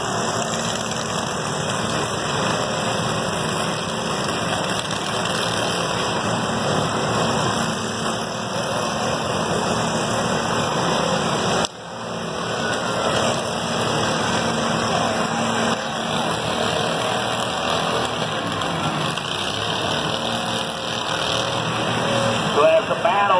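Lawn mowers in a demolition derby at the 2021 Wood County Fair: a continuous, dense drone of small engines, fairly loud and constant, with an announcer talking over the noise.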